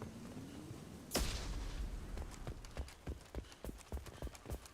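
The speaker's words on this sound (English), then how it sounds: "Was a shitty explosion." A single sharp explosion bursts out in the Mass Effect 2 video game, followed by a run of dull, irregular thuds and impacts. A low, rumbling background runs beneath.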